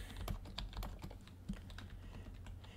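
Quiet, close keystrokes on a computer keyboard while entering numbers into programming code, an irregular patter of soft clicks with no talk.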